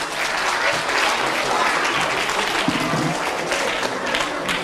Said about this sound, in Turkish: Onun için ilkokul öğrencilerimize şöyle bir alkışlayalım.